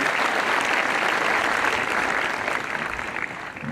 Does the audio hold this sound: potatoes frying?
no